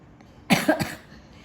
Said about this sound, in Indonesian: Sorry aku lagi batuk.